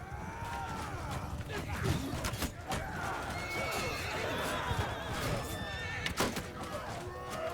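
Horses in a video game cavalry battle whinny repeatedly over a busy din of hooves and clashing, with voices talking throughout.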